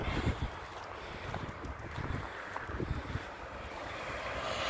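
Light wind buffets the microphone outdoors at the entrance to the Hrasnica neighbourhood on a fine day, a steady low rumble with occasional gusts throughout, no speech.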